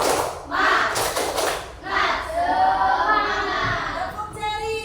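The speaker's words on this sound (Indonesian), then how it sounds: "Ayo, tepuk semangat" Children in a primary classroom lesson do a rhythmic clapping chant, two bursts of group hand claps mixed with young voices calling out together.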